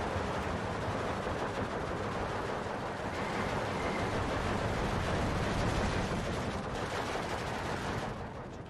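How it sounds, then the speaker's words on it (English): Mortar fire in the World War II strategy game Steel Division 2, a dense continuous roar of overlapping blasts and shell impacts that stays loud and unbroken for nearly nine seconds, easing slightly at the very end. "Get out of the way of that mortar fire if we can"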